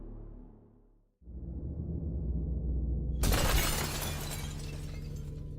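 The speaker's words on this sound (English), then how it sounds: "The crash was deafening. Glass exploded inward, sending shards flying across the room." A glass window shatters as a boulder crashes through it: a low rumbling build-up, then a sudden loud burst of breaking glass with shards scattering and a lingering crashing wash, with no voices.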